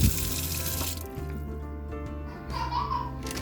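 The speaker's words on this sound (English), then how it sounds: "So I'm gonna rinse it out with a warm water" Warm tap water runs over frozen mackerel fish being rinsed in a sink, with a strong splashing gush at first that then settles into a lighter trickle under faint background voices.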